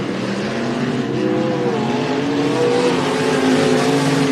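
Limited sprint cars racing on a dirt track, a dense, loud engine roar holding steady with overlapping rising engine notes from several cars.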